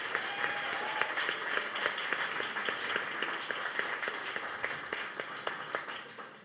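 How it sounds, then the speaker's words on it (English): A church gathering's audience applauds in a steady wash of clapping, with individual sharp claps standing out through it and no talking. "let's give those guys a round of applause"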